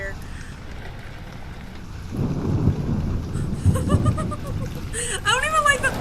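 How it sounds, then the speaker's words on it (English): Thunder rumbles in Amnesia: The Dark Descent, a low rolling crash building up partway through over a bed of steady rain and wind, with a person talking over the storm near the end. "I don't even like the thunder."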